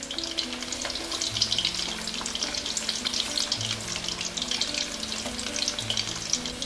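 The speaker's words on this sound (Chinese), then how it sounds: "油温5-6成热，下入油锅中炸" Sweet potato slices deep-frying in hot oil, giving a dense, continuous crackling sizzle, loud and close, with low clinks and scrapes from turning the pieces underneath.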